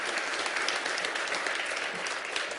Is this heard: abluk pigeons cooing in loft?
no